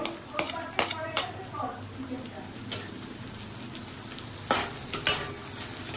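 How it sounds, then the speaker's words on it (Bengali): Steady sizzling of chicken and vegetables frying in a hot wok, punctuated by sharp clinks and scrapes of a utensil stirring, with talk nearby. "আগে আমি চিকেনটাই বানিয়ে নিই, ভেজিসগুলোকে ভেজে।"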